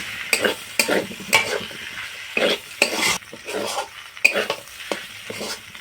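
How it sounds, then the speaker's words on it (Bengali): Homemade pasta in tomato sauce is stirred in a pan, producing loud, rhythmic scraping strokes over a low sizzle, with occasional utensil knocks close by. "টমেটো সসটা দিয়ে খুব ভালোভাবে এইভাবে নাড়াচাড়া করে নেব।"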